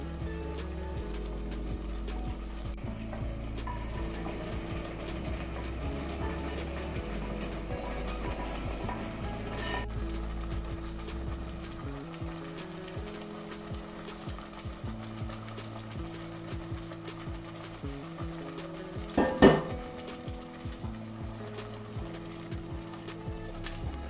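Paneer fries in a pan with a continuous soft sizzle and a low background hum, punctuated by occasional stirring scrapes and one sharper clack near the end.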